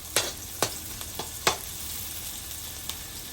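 Garlic and onion sauté in a pan for Batangas lomi, a soft frying hiss punctuated by several sharp clinks and scrapes of a spatula against the pan.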